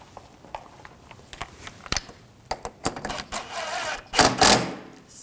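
Ratchet snugging down thermostat housing bracket bolts on a 2007-2013 BMW 328i 3.0L, a series of close clicking ratchet strokes speeding into quick bursts of rapid clicks.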